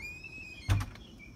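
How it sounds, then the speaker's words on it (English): A house door, likely leading to the back of a property with stored cedar and carving wood, opens with a single short thunk and rattle, moderately close, against a quiet background. "I'll open the door"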